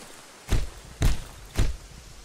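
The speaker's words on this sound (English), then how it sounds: "I hear many thumps." Three heavy thumps in the survival horror game Darkwood, evenly spaced about half a second apart, deep and booming like blows against a wooden door, standing out clearly over a quiet ambient background.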